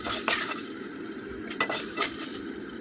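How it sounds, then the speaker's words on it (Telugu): Ginger garlic paste fries and sizzles in a pan for vegetable biryani while a spoon stirs it, giving a constant close sizzle broken by a few sharp scraping clinks of the utensil, and no one talks. "బాగా వేయించుకోవాలి."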